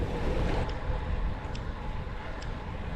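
Steady rushing wind buffets the microphone while cycling on a long gravel road ride, a loud continuous roar with faint higher whistles, as if moving at speed outdoors.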